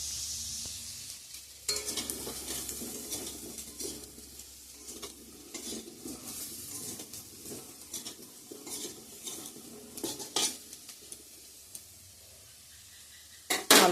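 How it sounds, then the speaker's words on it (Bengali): Potatoes fry in a pan with steady sizzling while a utensil stirs and scrapes, clinking metal against the pan in irregular bursts, close and moderately loud, with no talking. "আলুটা ভাজা হয়ে গেছে, নামিয়ে নেব।"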